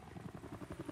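A helicopter in Battlefield 3 thumps along with a steady, rhythmic rotor chop at moderate volume, sounding like game audio, with no talking.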